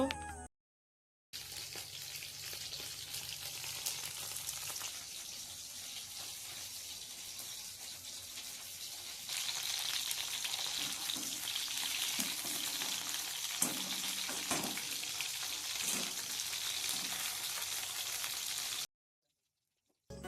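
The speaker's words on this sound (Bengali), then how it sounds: "এই দেখো এইদিকে কড়াইয়ে করে চিকেন পকোড়াগুলো এক এক করে ভেজে নিচ্ছি।" Chicken pakoras deep-frying one by one in a kadai of hot oil, a continuous bubbling sizzle lasting throughout, growing louder midway, with occasional scraping and clatter of a utensil and no talk.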